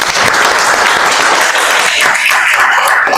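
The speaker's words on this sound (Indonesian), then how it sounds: "Oke, beri tepuk tangan." Loud, steady clapping from a class audience fills the room after a group's presentation, continuous applause with no talk over it.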